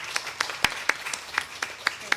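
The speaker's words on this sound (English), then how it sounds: "You deserve a round of applause." Sparse clapping from a small audience at a nursing ethics conference, about a dozen separate claps at a loose, uneven rhythm, fairly close and clear with no talking.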